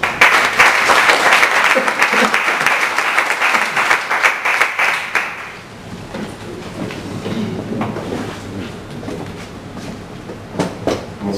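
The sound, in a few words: audience applause for a presenter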